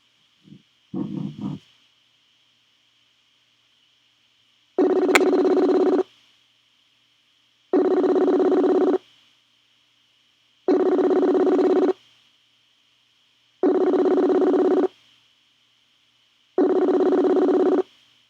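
Outgoing telephone call ringing out: five evenly spaced, steady ring tones about a second long each, separated by silence, heard clearly over a faint line hiss after a brief dialing blip.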